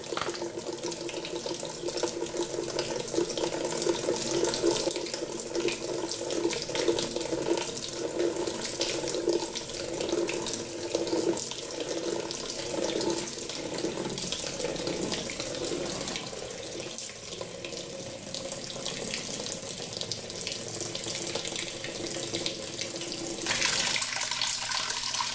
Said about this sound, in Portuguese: agora então ela vai encher para fazer o primeiro enxágue.